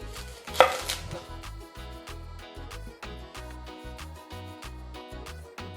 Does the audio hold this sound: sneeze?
no